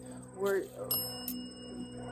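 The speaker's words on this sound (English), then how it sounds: "You can see she's dinging the bell." A small bell is dinged twice, bright short rings that stand out over a steady background hum, with faint talk around them.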